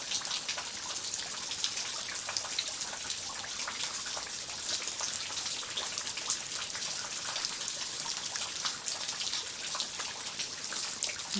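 Rain drops patter steadily and evenly, a continuous soft hiss of many small impacts close by, with no voices over it.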